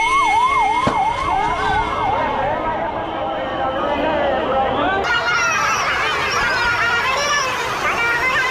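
An emergency vehicle siren, ambulance or fire engine, wails through a crowded Rath Yatra festival street in Puri, with a rising and falling warble over a dense background of crowd noise and voices.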